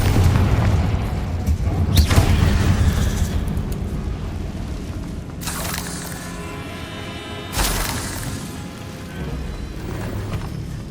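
Confringo spell explosions go off in a video game: several heavy booms with crackling debris, spaced apart over a rumbling background, each burst loud and close.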